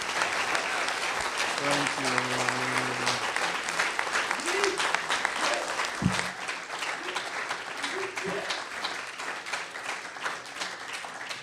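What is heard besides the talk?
audience applause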